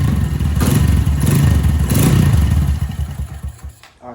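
A Honda Grom motorcycle engine runs close by with a rapid, choppy low putter and a couple of brief throttle swells before the sound cuts off near the end.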